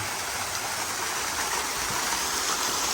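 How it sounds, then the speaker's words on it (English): Five restaurant fountains and a waterfall behind them give a continuous, even rush of splashing water, steady and fairly loud with no voices. "We have 5 fountains as well as a waterfall behind them."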